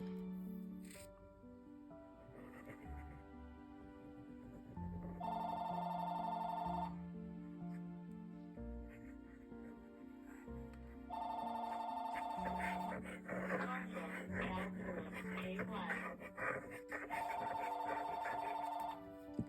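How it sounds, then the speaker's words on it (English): A telephone rings indoors in three separate bursts of repeated electronic trilling, spaced several seconds apart, with quiet rustling between. "Never fails, the phone rings when I'm making a video, but it's not anything important."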